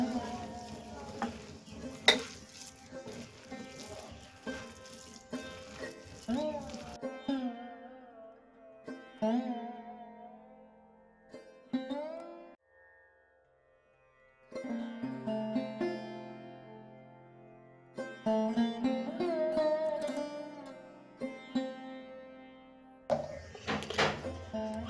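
Sago dough with milk powder stirred by hand, giving soft, irregular scraping and clinking in bursts, with a short pause midway, and faint talk at times.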